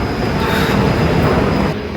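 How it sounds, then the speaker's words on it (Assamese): An underground metro train pulls into the station with a loud, steady rumble and roar filling the platform, no voices over it. "ইয়াত চাব পাৰিছে মেট্ৰ' আহি গ'ল"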